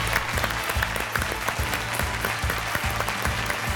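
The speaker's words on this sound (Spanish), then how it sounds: "Fuertes aplausos" Loud, dense clapping from a game-show studio audience keeps going without a break, celebrating the finalists of a quiz program.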